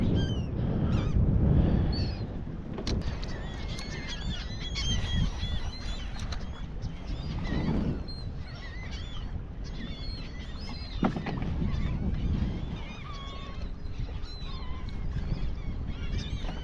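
Seabirds call repeatedly over striped bass feeding on sand eels at sea, scattered near and far cries over a constant boat and water rumble.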